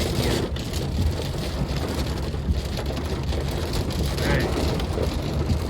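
Rain falls during a severe monsoon thunderstorm between Queen Creek and San Tan Valley, Arizona, a steady broadband hiss of heavy rain and wind on the mic, fairly close and continuous.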